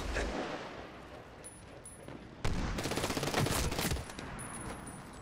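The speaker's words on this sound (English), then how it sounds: "Two point blank headshots. With my shotgun." Gunfire from Medal of Honor Warfighter, a shotgun among it, bursts in loud rapid volleys over a busy game soundscape, quieter scattered shots first, then a dense stretch of blasts.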